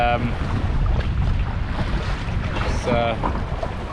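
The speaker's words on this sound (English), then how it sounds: "The wind is coming out in the northwest quite beautifully" Strong northwest wind gusting to about 40 buffets the microphone in a steady low roar on an Arctic trip, with water and boat noise beneath and a brief faint voice near the end.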